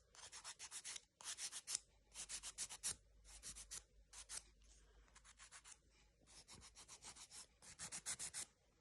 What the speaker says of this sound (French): go, se limer les ongles